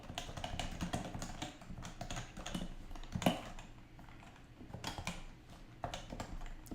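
Computer keyboard typing at close range, a steady run of light clicking keystrokes with short pauses, quiet and alone.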